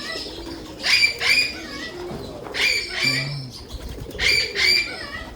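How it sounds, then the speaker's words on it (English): Doves in a bird barn, their soft calls and a few bird chirps rising in short bursts over background noise. A sale setting with other birds, chicks and pigeons around. "They're all over the place. The birds, the doves. These are the doves."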